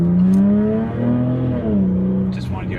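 The engine of a 2018 Jaguar F-Type 400 Sport, cruising at 66, revs up loudly and quickly from inside the cabin, its pitch rising and falling in a couple of surges.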